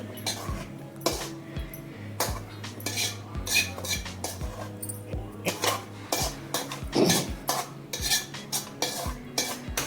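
Metal spoon scrapes and clanks against pots as carrot halwa is scooped from a kadai into a pressure cooker, a series of irregular, close metallic knocks.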